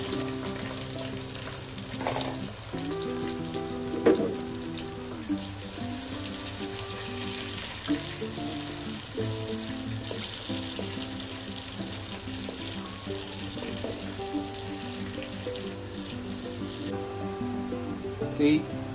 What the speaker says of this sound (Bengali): এই পেঁয়াজটা একটু হালকা একটু ব্রাউন করে ভেজে নেব, হালকা ব্রাউন।